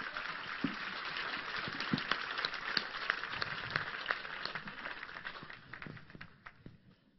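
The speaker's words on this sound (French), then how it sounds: "on les applaudit" Applause from the audience at the SYT D'OR 2017 award ceremony, a moderate crowd clapping with distinct individual claps audible, holding steady and then thinning out and fading at the close.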